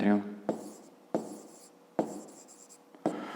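Handwriting on paper for a fifth-grade geometry exercise: four short scratchy pen strokes about a second apart, each followed by a brief rubbing tail, close and quiet, after a moment of voice at the start.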